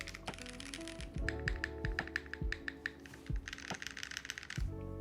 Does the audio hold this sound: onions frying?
no